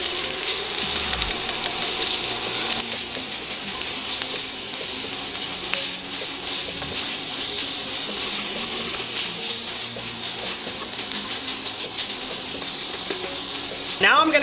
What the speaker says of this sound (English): We're going to just cook this sausage down.